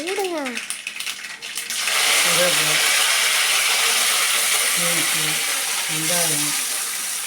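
Mustard seeds hit about three spoons of hot oil in a pan and burst into a loud, steady hiss and crackle that fills the sound for several seconds, with a voice speaking briefly underneath.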